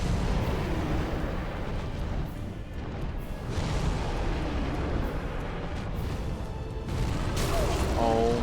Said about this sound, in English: Especially when they're atomic explosions.